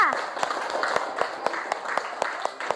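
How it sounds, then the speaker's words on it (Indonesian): A class gives a round of applause for student groups presenting work: sparse, uneven hand claps repeat steadily, fairly close, with some voices mixed in. "Tepuk tangan buat semuanya."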